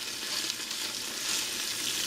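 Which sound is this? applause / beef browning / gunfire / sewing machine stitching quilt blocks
beef browning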